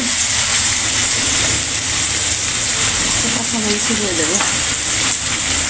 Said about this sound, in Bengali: মাছ ভাজার তেলের মধ্যে আপনি পেঁয়াজটা ভেজে নেবে সুন্দর করে।